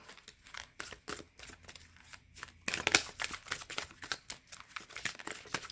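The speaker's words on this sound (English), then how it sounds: "I like how these cards really shuffle." Tarot cards are shuffled up close, a busy run of quick papery riffles and flicks that grows louder and denser partway through, with no voices.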